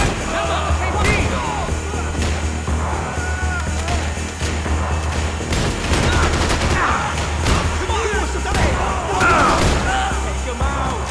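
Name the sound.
gunfire in the video game Max Payne 3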